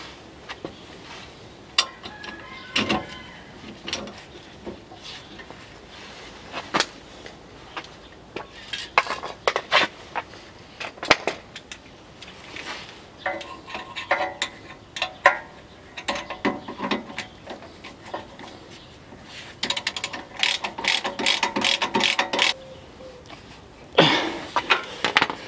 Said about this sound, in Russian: закручиваем гайку